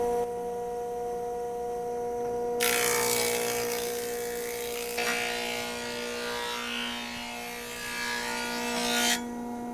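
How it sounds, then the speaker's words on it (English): A thickness planer takes a wood board, its broadband rasping cut starting abruptly and running loud and steady for about six seconds before cutting off, over a constant motor hum. "Flat on the bed, okay, and feed the material."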